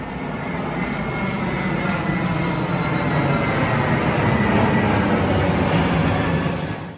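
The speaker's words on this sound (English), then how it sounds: "another airplane" An airplane passes overhead as a loud, steady engine roar that swells and holds for several seconds, heard outdoors beside a running portable electric pellet grill, with no talk over it.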